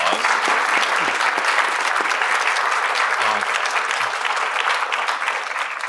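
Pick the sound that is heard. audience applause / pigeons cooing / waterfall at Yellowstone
audience applause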